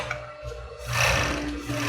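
A sewing machine runs a short burst of stitching along a seam edge on a cropped top, a close mechanical whir that rises in level partway through and holds steady to the end.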